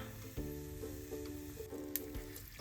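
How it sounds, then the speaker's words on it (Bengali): Panch phoron and dried chilies fry in mustard oil with a close, steady sizzle and a few small pops. Nobody talks over it. "পাঁচফোড়ন আর শুকনো মরিচটা আমি হালকা টেলে নিব তেলের ভিতরে"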